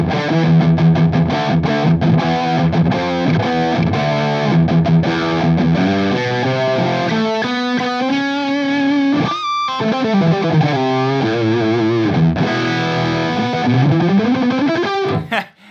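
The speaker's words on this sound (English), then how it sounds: "There's a lot of distortion on tap here." An electric guitar through a Bogner Ecstasy Mini distortion pedal plays sustained chords and bending lead lines, loud and thick with buzzing overdrive, ending abruptly.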